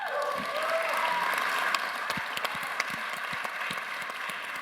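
Steady applause fills the Mission Control Center, a broad wash of many hands clapping with a few sharper, louder claps standing out.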